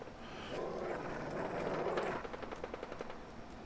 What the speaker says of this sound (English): Did the gunfire give it away?